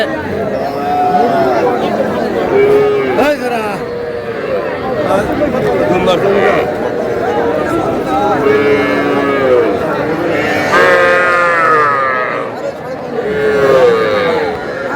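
A crowd chatters at an outdoor livestock market in Aftabganj while bulls and heifer calves moo repeatedly in the background, the calls rising and falling through the steady hubbub.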